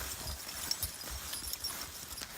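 Horses walk on a farm, their hooves clip-clopping in an uneven, close rhythm of soft thuds over a quiet background, with no talking.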